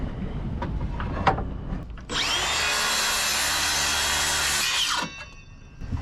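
A saw blade set to a three-quarter-inch depth cuts a joint in wood aboard a wooden boat: one loud, sustained whining cut of about three seconds, with quieter handling noises before and after.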